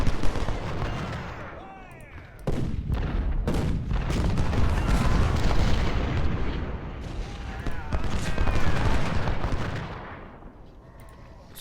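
Artillery guns in the Ultimate General: Civil War video game fire in a dense, continuous battle din of booms and crackling gunfire, rising and falling in intensity, with a voice speaking faintly underneath.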